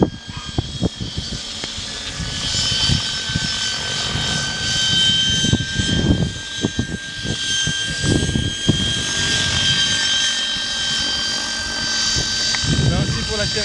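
A DJI drone with an XP3.1 flight controller hovers and flies, giving a steady high propeller whine with a constant pitch. Someone talks over it throughout, and scattered wind buffeting adds texture.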